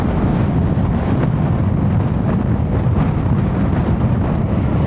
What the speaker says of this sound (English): it's chucking it down, it's windy